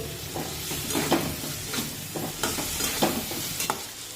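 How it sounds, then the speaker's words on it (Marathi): Ground masala paste is sautéed in a pan with softened tomatoes for a village-style brinjal curry. A spoon scrapes and stirs in repeated strokes over a soft, close sizzle, and no one speaks. "आता यामध्ये आपण वाटण टाकूया आणि हे वाटण दोन मिनिटे चांगलं परतून घेऊया"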